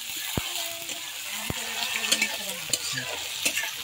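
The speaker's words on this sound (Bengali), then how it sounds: "উঠানোর পর কিছুক্ষণ নাড়াচাড়া করতে হবে।" Cabbage frying in a pan and being stirred, a continuous close sizzle broken by a few sharp scrapes and clacks of the utensil against the pan, with no speech.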